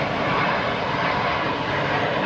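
A Cessna Citation jet at Geneva Airport gives a loud, close, broad engine roar, steady and unbroken throughout.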